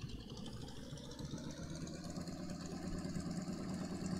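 An F6 Hellcat aircraft engine idles in the FlightGear flight simulator, a steady low droning rumble that holds even and constant throughout with no voices.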